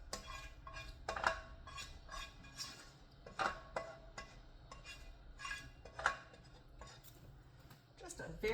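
A utensil scraping leftover enchilada sauce from the bottom of a pan, a series of irregular close clinks and scrapes of metal on cookware, moderately faint.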